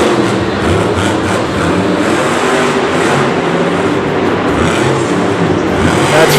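Grave Digger monster truck driven by John Zimmer at Monster Jam Singapore 2017, its battle-scarred, war-torn body churning through the arena: a loud, continuous engine roar blended with dense crowd and arena noise, steady throughout.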